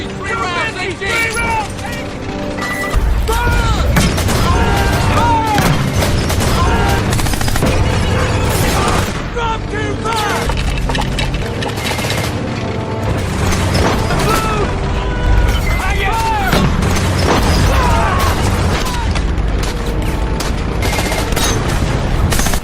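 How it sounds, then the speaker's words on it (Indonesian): Mortar shells are launched at a Japanese tank during a World War II Pacific battle, with dense repeated booms and gunfire crackling loudly and continuously under a busy, chaotic battle soundscape. "mereka langsung mengisi peluru mortar dan langsung diluncurkan ke arah musuh"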